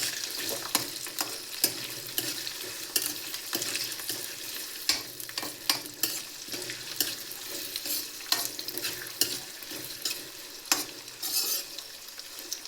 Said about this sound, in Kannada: ಈರುಳ್ಳಿ ಕಲರ್ ಚೇಂಜ್ ಆಗೋವರೆಗೂ ಇದರಲ್ಲಿ ಎಣ್ಣೆಯಲ್ಲಿ ಫ್ರೈ ಮಾಡ್ಕೊಳ್ಳಿ.